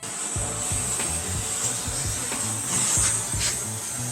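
A hot air tool heating an Infiniti G35 headlight lens to reseal it gives a steady close hiss and blowing rush with faint mechanical rattles underneath.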